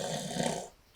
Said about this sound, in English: Lion snores and snores some more.